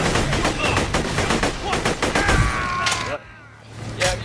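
Rapid automatic gunfire rattles continuously with overlapping bursts in Borderlands: The Pre-Sequel, then cuts off abruptly, leaving a brief quieter hum before another short shot.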